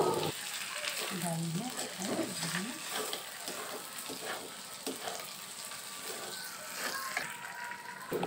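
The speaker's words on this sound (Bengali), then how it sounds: "মাংসের সাথে আমি ডালটাও সুন্দরভাবে ভেজে নেব।" Chicken pieces and washed lentils frying together in a pan for chicken khichuri, giving a steady close sizzle with occasional stirring scrapes, and a voice briefly audible near the start.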